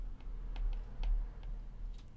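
Text being typed on a computer keyboard into a note-taking app, a few quiet, scattered keystrokes spread over about two seconds.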